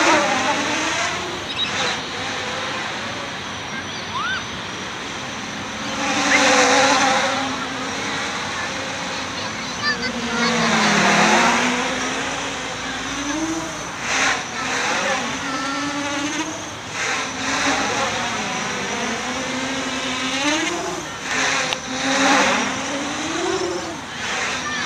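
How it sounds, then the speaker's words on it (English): An Armattan quadcopter drone flies aerobatic flips and rolls, its motors whining and surging in pitch as it dives and climbs, loud and continuous throughout, with some nearby voices underneath. "I know this quad's a lot more capable, and once I tweak the settings, I'll try some multiple flips and rolls"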